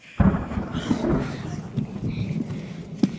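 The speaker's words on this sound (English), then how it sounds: "Maybe if we all sing loud enough, we won't be able to hear the thunder." Deep rolling thunder effect from a staged performance of The Sound of Music, a loud crack and sustained rumble filling the moment with a sharper hit near the end.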